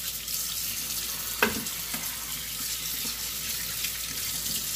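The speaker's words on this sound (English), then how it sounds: "Just rinse out the meat." Tap water runs steadily into a sink while meat is rinsed under it for sancocho prep, a continuous close splashing rush with a brief thud as the meat shifts.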